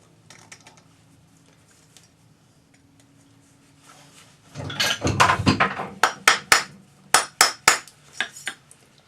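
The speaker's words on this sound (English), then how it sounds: "Use your rawhide hammer to form it." A rawhide hammer strikes a metal cuff bracelet shaped on an oval mandrel, giving a quick run of about a dozen sharp, close blows after a brief scuffling of handling noise.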